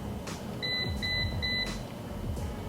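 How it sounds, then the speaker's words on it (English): Three short electronic beeps at an even pace from a Balbali mini electric kettle with temperature control signalling the water is done, clear and close, over a low steady background hum. "if you can hear that beeping noise, that is how you guys know when it's done"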